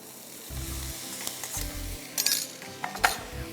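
A spatula scrapes and clinks against a pan as minced meat (keema) is stirred with onions, giving soft intermittent sizzling, several distinct metallic knocks and a low rumble, close by with no speech.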